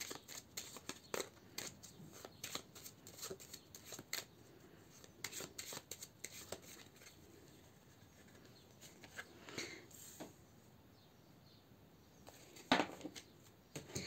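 Oracle cards being shuffled by hand, with soft, irregular riffling and patting flutters continuing for many seconds, close but quiet.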